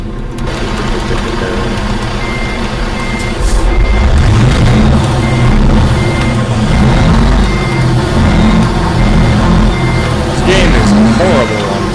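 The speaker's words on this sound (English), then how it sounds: "this game sucks on keyboard" Reversing beeps from a truck in American Truck Simulator pulse steadily over a loud engine rumble, with a voice talking over the game sound.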